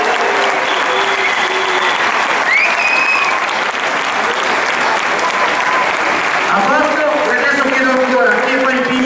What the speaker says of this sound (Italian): Applauso e parte dalla pista e sale di qui e di lì, perché lo meritate tutti.